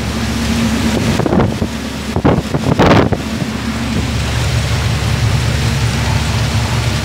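Heavy monsoon rain beats on a moving car during a road-flooding downpour, a loud, dense roar of water and wind throughout with a burst of sharper splashing and thumps midway.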